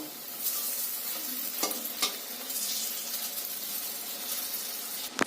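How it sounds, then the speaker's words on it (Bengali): Puffed rice (muri) cutlets fry in a pan with a steady, dense sizzle and scattered sharp crackles and pops, close and fairly loud, with no one talking. "আমার ভাজা হয়ে গেছে আমি এবার এগুলোকে তুলে নেব"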